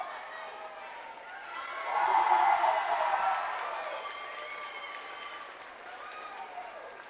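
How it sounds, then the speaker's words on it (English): Rocky Mountain Unified team and fans cheering during a basketball game against Fort Collins Unified, a moderate burst of group cheering and clapping that peaks early, then settles into a fainter gym murmur. "Rocky Mountain doing a cheer as well."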